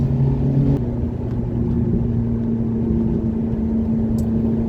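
A 2006 Ferrari F430 Berlinetta cruises with a steady, smooth engine drone and road rumble heard from inside the cabin, continuous and moderately loud throughout.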